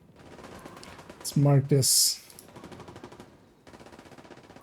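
Rapid machine-gun style gunfire from a game plays in the background as bursts of fast repeated shots, moderately loud, with someone talking briefly over it and a short pause in the middle.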